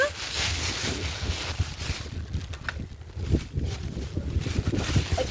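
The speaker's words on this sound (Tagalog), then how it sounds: "It's windy. Super windy." Strong gusty wind buffets the microphone outdoors on an overcast afternoon, a steady low roar with rising surges, loud and close throughout with no talk.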